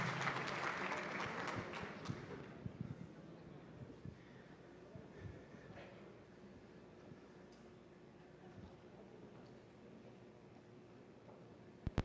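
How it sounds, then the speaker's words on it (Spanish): Audience applause at a university technology expo greets a guest speaker. It starts as a dense burst, then thins to scattered claps and faint crowd noise, with brief speech near the end. "Con un fuerte aplauso."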